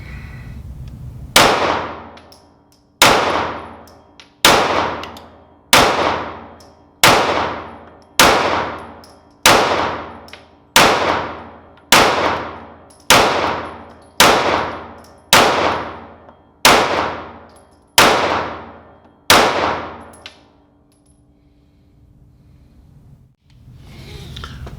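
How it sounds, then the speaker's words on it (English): Fifteen loud gunshots from a Rost Martin RM1C pistol fired at a steady pace, each sharp crack ringing briefly before the next, followed by quiet after the magazine empties. "we just ran another 15 rounds through it with our 15 round magazine"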